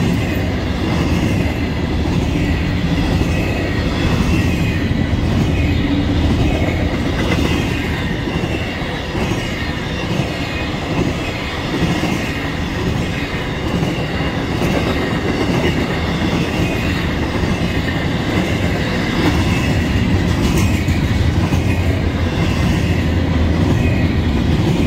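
A Florida East Coast Railway train rumbles past loud and close after rain, with a continuous roar of wheels on rails and faint squeals, steady throughout.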